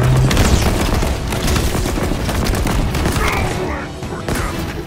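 Gunfire from Halo Infinite, a dense and loud barrage of rapid shots and booms that carries through the whole stretch without a break.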